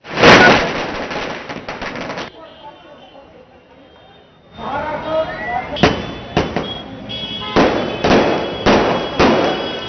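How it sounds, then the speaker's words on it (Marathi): Rapid crackling bursts of firecrackers and fireworks celebrating Devendra Fadnavis's swearing-in as chief minister, loud and close, in irregular clusters with a brief quieter gap; a voice talks faintly among the pops. "कुठे फटाक्यांची आतषबाजी होतीये"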